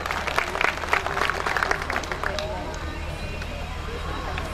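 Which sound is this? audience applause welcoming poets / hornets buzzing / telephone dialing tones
audience applause welcoming poets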